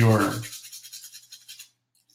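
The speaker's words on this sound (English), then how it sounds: "you can take a toothbrush like so, and then just lightly rub that into" A toothbrush scrubs a vintage 10 karat gold watch band in quick short strokes, a soft rhythmic bristly scratching of about a dozen passes after a brief voice at the start, then stopping.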